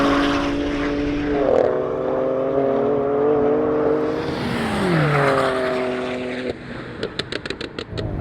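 A BMW M5 Competition and M3 Competition in RWD mode launch side by side in a drag race, their engines droning loudly and climbing in pitch, dipping briefly at a gear change, with a rapid ticking toward the end.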